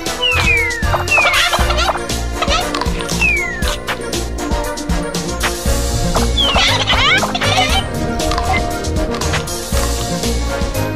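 Cartoonish chickens in the arcade shooter Chicken Invaders squawk and cluck repeatedly over a loud, busy mix of game music and effects that continues throughout.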